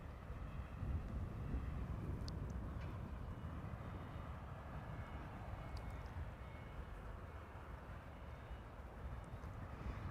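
A KLM airliner flies near Amsterdam Schiphol Airport with a steady, broad jet roar that sounds distant and continuous, mixed with wind buffeting on the microphone.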